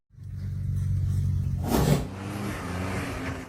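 A UTV engine roars loudly while climbing a steep rocky slope off-road, a sustained rev that swells to a peak near the middle and then holds at a slightly lower, rough drone before cutting off.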